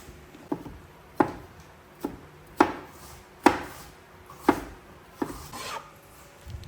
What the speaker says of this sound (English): Then I cut the tomatoes into chunks to make the classic home-style dish, tomato and egg stir-fry.